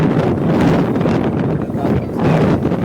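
Strong sea wind gusts steadily across the microphone on a waterfront near a pagoda, with an oil ship offshore, a loud continuous rumbling roar that swells and eases over a few seconds, no voices.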